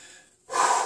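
A man breathes heavily after exertion, close to the mic. A soft trailing exhale fades to near silence, then a sharp, strong inhale follows.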